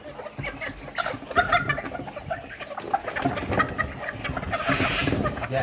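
Chickens cluck and chatter close by in irregular bursts, with rustling and occasional higher bird calls mixed in.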